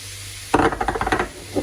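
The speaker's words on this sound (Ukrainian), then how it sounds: "Одразу відправляю перчик заморожений." Frozen peppers tipped into a pan of onion and grated carrot burst into a loud sizzle, followed by a quick run of scraping stirs, then the frying settles to a softer hiss.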